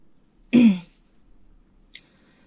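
A single sharp, gruff throat clearing, close and fairly loud, then near silence apart from a tiny click shortly after.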